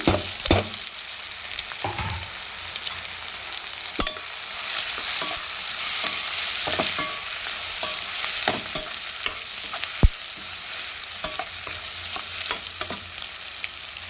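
Boiled egg pieces stirred into a sizzling curry in a pan, a constant frying hiss broken by sharp clinks and scrapes of the spoon against the metal at an irregular pace, close by with no voices.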